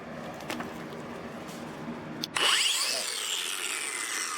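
A Ryobi brushless cordless angle grinder with a Ryobi-brand disc spins up with a rising whine partway through, then holds a loud, high, steady cutting screech after a few earlier taps and knocks.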